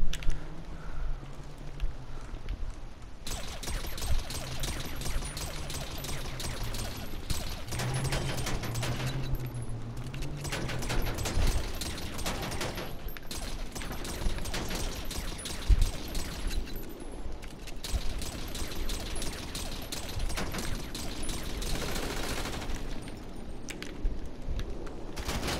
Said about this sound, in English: I'm gonna show you the shooting test.